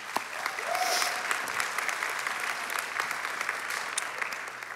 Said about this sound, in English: let's take a moment and give ourselves a round of applause.